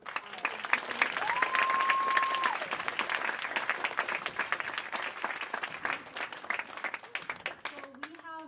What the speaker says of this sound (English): can we have another round of applause for all of our